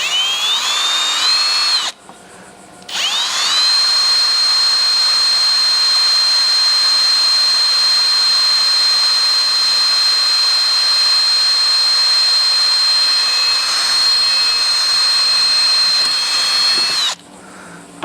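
A power drill whines loudly and steadily while boring through a metal plate for a homemade kayak power-pole anchor, stopping briefly after about two seconds, then running continuously before cutting off near the end.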